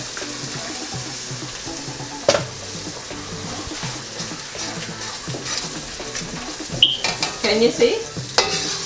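Tomato frying in a paella pan for a Senegalese-style seafood paella, with onions and green seasoning: a steady low sizzle with stirring clatter, a few sharp utensil knocks, and a brief spoken question near the end.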